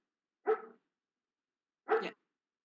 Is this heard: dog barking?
yes